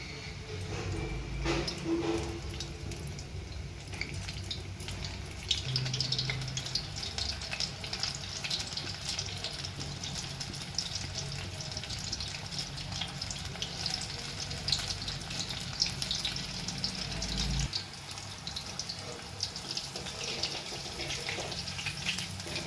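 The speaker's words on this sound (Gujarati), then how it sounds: "તો તેલ આપણું ગરમ થઈ ગયું છે. હવે આપણે રીંગને તળી લઈશું." Chili pepper rings fry vigorously in oil in a pan, a dense, continuous crackling sizzle that stays loud and steady throughout.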